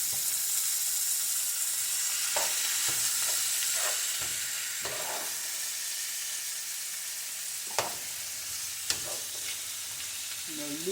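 Food sizzling as it cooks down in a pan on a stovetop, a steady loud frying hiss with a few brief clicks and stirs, no talking.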